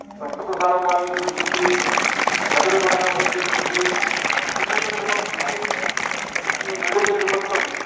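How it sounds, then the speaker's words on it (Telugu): An audience clapping hands throughout, a dense, continuous patter of applause filling the room while a voice carries over it. "చప్పట్లు కొడితే ఆరోగ్యానికి మంచిది."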